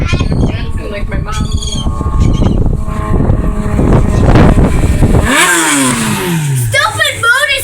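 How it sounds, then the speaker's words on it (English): Motorcycle passing near seagulls, a loud engine roar and rev that builds, then drops in pitch as it goes by, mixed with loud gull cries and people talking. "Stupid motorcycle!"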